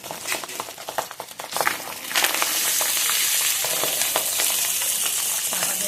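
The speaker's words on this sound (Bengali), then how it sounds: "মাছগুলো প্রায় ভাজা হয়ে গেছে" Pabda fish frying in hot oil, a steady dense sizzle that swells louder partway through and holds, with a few crackles and spatters near at hand and no talking.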